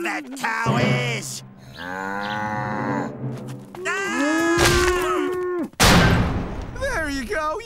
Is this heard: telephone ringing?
no